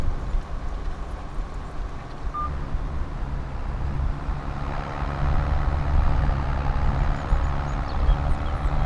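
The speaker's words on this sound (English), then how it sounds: "Boy, you can hear this tractor grunt down here." Tractor planting oats, engine labouring under load as a low steady drone that grows slightly louder and heavier partway through, heard from close by with no talk over it.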